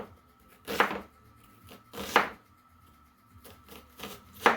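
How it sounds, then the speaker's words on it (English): A knife cuts through a water-bathed onion in four crisp, close chopping strokes, spaced roughly a second and a half apart, with near silence between them. "I put the knife in and I dig. And I just start cutting."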